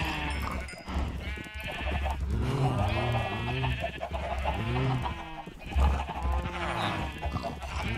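Sheep bleat repeatedly in a Minecraft barn holding cows, sheep and chickens, the wavering bleats overlapping in a steady run of game animal calls over a constant background tone.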